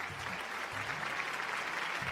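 A studio audience on a Malayalam TV show claps for rural employment scheme workers, a short dense burst of applause filling the space with steady, fairly close hand-clapping, a few low voice-like tones underneath.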